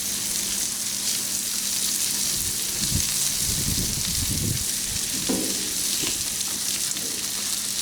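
On a Blackstone griddle, butter and cheesesteak fillings sizzle loudly and steadily, a dense hiss with a few low scraping stirs midway.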